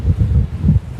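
Gusty wind at Sydney Airport on a cloudy day buffets the microphone in low, rumbling surges, rising and falling through the short stretch with no voices.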